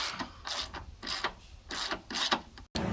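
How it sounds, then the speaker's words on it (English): Headlight bolts are undone by hand on a Holden Caprice, giving a run of close, faint ratcheting clicks and metallic scraping that comes and goes in short rhythmic bursts. "Now undo the top headlight bolts."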